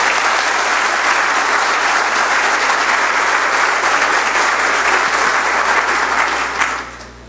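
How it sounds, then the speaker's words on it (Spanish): A conference audience at a talk on bank financial statements gives steady, dense applause that fills the room at an even level for about seven seconds, then tapers off at the end. "Pido un aplauso para don Vinicio"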